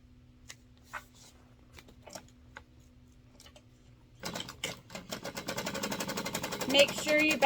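A sewing machine top stitches an eighth-inch seam on card slots, building into a fast, steady, close mechanical run after a few scattered clicks and handling noises.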